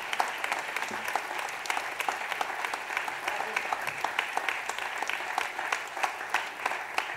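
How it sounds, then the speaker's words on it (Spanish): An audience at an improvised verse singing night applauds steadily, dense clapping from a crowd that holds level for several seconds without letting up, with a voice faintly heard beneath it. "Aplauso para todos ellos."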